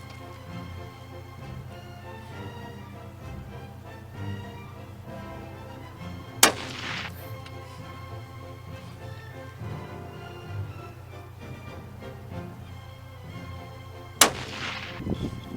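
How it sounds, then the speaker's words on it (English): Two loud, sharp rifle shots from a Churchill .243 during outdoor target shooting at a bush camp, spaced several seconds apart, each a sudden crack with a short ringing tail over a steady low background hum. "And sometimes I do a bit of target shooting. Here I am using my Churchill 243."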